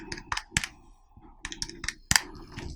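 Typing on a computer keyboard at close range: short bursts of sharp key clicks in irregular clusters, separated by brief quiet gaps, with no voice.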